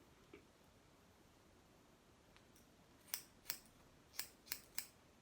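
Scissors snipping a young man's hair during a haircut, five or six sharp metallic clicks clustered near the end, close and distinct over a quiet hiss, with no talking.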